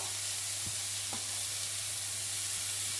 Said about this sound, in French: je remue de temps en temps mes légumes pour qu'ils soient saisis correctement